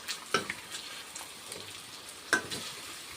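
Meat frying in oil in a pan, a steady close sizzle with two sharper clatters of stirring, quiet and alone without talk.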